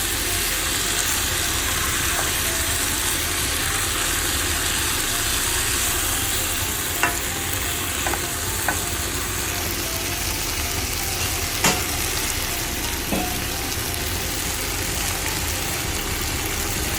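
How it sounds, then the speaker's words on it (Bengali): Marinated mutton with spices is stirred in a hot pan for mutton curry, a steady sizzle running throughout with a few sharp scrapes and clicks of the utensil against the pan. "এটাকে ভালো মতো নাড়িয়ে মাখিয়ে নিতে হবে"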